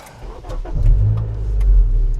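Ninth-generation Honda Civic Si on the move, its engine note rising as it pulls away and holding a steady low drone close by, with no one talking.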